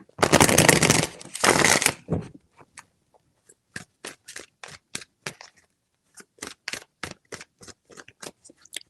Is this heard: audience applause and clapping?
no